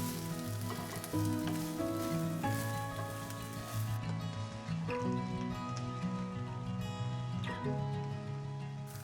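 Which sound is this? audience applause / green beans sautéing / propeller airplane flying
green beans sautéing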